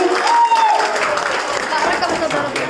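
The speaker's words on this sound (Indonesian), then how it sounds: "Boleh tepuk tangannya lagi." Loud applause from a crowd fills the moment, with a person talking over the clapping.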